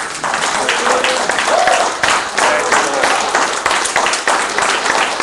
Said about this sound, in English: Give the Lord a big hand clap